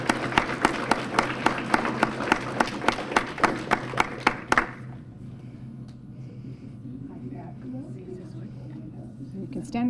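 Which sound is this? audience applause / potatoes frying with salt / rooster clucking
audience applause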